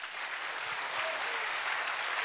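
Soft, thin applause from a church audience at a worship service, a quiet polite patter of hands heard at a distance, steady and brief.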